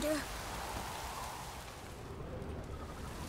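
Steady downpour in The Witcher 3 video game, a dense even hiss of rain that runs through the whole moment at moderate level, with a brief voice at the start.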